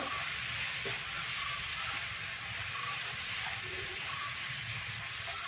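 Spices sizzle in a pan while being stirred for masala dosa filling, a steady, fairly quiet hiss of frying with faint scraping from the stirring.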